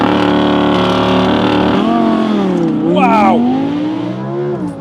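Audi R8 V10+ launching under launch control, its V10 roaring loud and close as it climbs steadily through the revs with a gear shift, while a voice exclaims over it.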